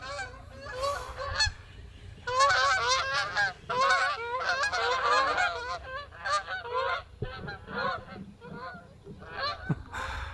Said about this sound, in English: It's getting dark and the geese are flying over.